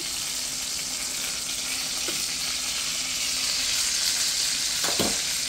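Food sizzles loudly and steadily in a frying pan just after being flipped, a close, continuous hiss with a few brief clinks near the end.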